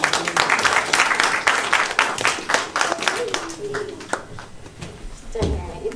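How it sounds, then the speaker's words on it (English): Audience applause at a spring magic show, a burst of lively clapping that thins out and fades over several seconds, with a bird cooing and brief voices near the end. "Everyone give Nadeem a round of applause."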